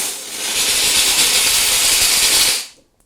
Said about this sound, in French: Là, normalement, on a de la vapeur.